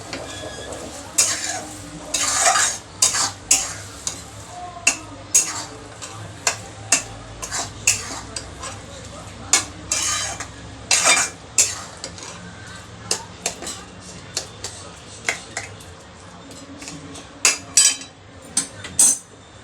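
Masala being stirred into brinjal in a pan for bharit, with repeated clinks and scrapes of a spoon against the metal pan at an irregular rhythm, close and moderately loud, with no voice over it.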